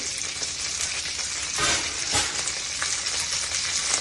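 Loud, continuous sizzling and spattering of tempering in a covered pan as water is added, a dense crackling hiss that swells briefly in the middle, with no voices.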